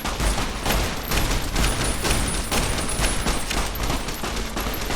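Gunfire in the video game Fallout: New Vegas, a loud, dense fusillade of rapid overlapping shots and bursts that goes on without a break, close and harsh.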